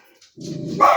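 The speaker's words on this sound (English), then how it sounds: "Excuse the barking." A dog barks in quick succession close by, a burst of loud yips and barks in a room where resin photo frames are being made.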